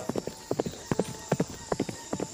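A horse's hooves clip-clop in a steady, brisk rhythm of paired knocks, close and clear, as it carries a rider toward the jungle, with a faint background hum and no talking.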